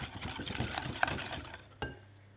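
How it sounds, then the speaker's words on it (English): Custard base of egg, sugar and vanilla seeds for crème brûlée is whisked in a bowl, a quick rattle of wire tines clinking against the sides, with a few sharper taps and a pause before a final knock. "Let's just whisk this together."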